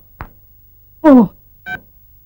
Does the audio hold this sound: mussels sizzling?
no